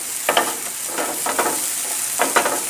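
Smoked sausage fries in a pan, a steady bright sizzle with the fat rendering out, broken by a few short scraping stirs; close and alone, with no talk.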